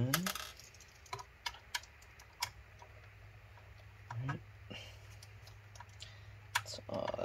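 Screws being removed from a Dell Optiplex 755 computer case, heard as scattered sharp clicks and small metallic taps spread irregularly over a low background hum, close and fairly faint.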